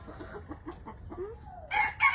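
Rhode Island Red hens cluck in short, repeated bursts close by in a backyard coop while eggs are being collected, ending in louder, sharper squawks; no one speaks.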